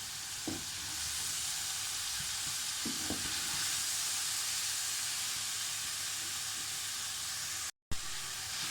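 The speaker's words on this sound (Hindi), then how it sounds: "अच्छे से सब्जियां मिक्स हो गई हैं और थोड़ी सी फ्राई भी हो चुकी हैं।" Vegetables with boiled cabbage stir-fry for restaurant-style Chinese rice, giving a loud, constant hiss and sizzle from the pan with a few soft knocks of the spatula, close and unbroken apart from a brief cut near the end.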